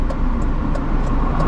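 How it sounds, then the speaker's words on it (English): A car drives past on a road while a learner waits at a corner in a manual car. It makes a loud, close, steady road roar with rumbling engine noise that fills the short moment, and nobody speaks. "Just gonna wait for the car coming past."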